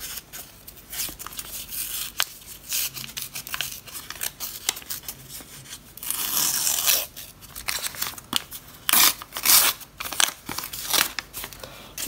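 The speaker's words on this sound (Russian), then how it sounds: "Открываем наш первый пакетик." Paper surprise packets are torn and crinkled open in sharp, close bursts of rustling and ripping, fairly quiet overall, with no talking.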